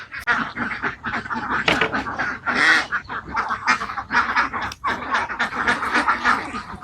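A large flock of farmed ducks at a duck farm beside a football field produces dense, loud overlapping quacks in rapid bursts, a near, continuous clamour with barely any pause.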